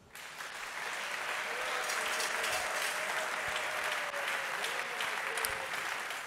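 A church congregation applauds in praise of the Lord, a dense, sustained wash of clapping from many hands that builds within the first second and holds steady, with a voice faintly audible beneath it.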